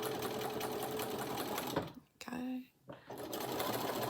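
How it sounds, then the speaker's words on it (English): Home sewing machine running a steady stitching whir through fabric, loud and close, briefly pausing in the middle before resuming. "we're just going to use my sewing machine and it will do the job fine"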